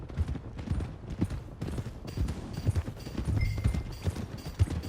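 Horse hooves clip-clopping in Red Dead Redemption 2 as a rider eases toward the stables, a steady uneven patter of close hoofbeats under game ambience and faint background tones.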